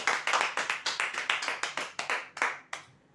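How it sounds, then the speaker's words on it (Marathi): Applause for a prize winner at a customer lucky draw: a small group claps in a quick, regular beat, each clap crisp and close, about fifteen in all, then trailing off into a few last claps. "जोरदार टाळ्या होत्या यांच्यासाठी"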